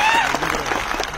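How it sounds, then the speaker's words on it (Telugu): Audience applause at a motivational talk, a short dense burst of many hands clapping at close range, with a voice briefly audible at the start. "ఒక్కసారి గట్టిగా క్లాప్స్ చేయొచ్చు"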